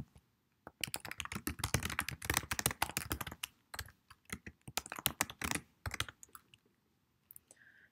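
Fast, steady typing of Java code on a computer keyboard, dense clattering keystrokes close up with short pauses and a few isolated taps near the end, no talking.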